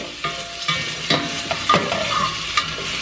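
Onions in a very hot pan, a loud close sizzle broken by several sharp scrapes and stirring strokes spaced across a few seconds, no speech.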